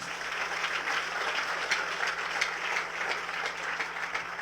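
A church congregation applauding together, a steady wash of many hands clapping at moderate distance, sustained without a break and with no voices standing out.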